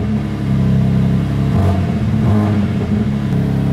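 A nearly new sports car with about 800 km on it and a carbon-fibre interior starts up and settles into a loud, deep, steady engine purr, close by and alone.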